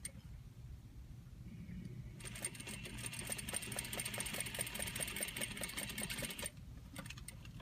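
A sewing machine stitches a lapped zipper at regular stitch length in a rapid, even run for several seconds, starting and stopping abruptly against a quiet background.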